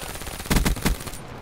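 A quick burst of rapid gunfire in Call of Duty: Black Ops 3, a few sharp shots in a row, stands out over a steady background hum.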